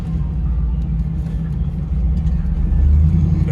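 A $275 auction Camaro SS fitted with a new exhaust, driven along with a low, steady engine rumble heard from inside the car, rising slightly toward the end, with no talk.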